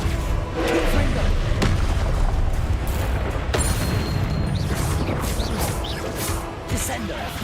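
Confringo spell explosions in the video game Hogwarts Legacy: dense rumbling booms and thuds over a continuous, busy battle-like backdrop, with a voice talking over it.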